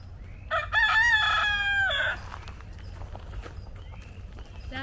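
Rooster crowing loudly and close for about a second and a half, followed by softer clucking and pecking sounds of chickens being fed in a backyard, with light ambient noise.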